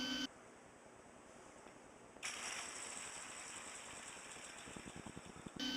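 A worn-in, fully 3D-printed fidget spinner whirring, a dense rapid rattling buzz with a grinding mechanical texture that jumps louder partway through and then cuts off abruptly.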